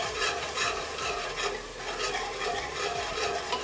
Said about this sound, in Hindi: तो यहाँ पे हमारा अदरक लहसुन अच्छे से भुन गया है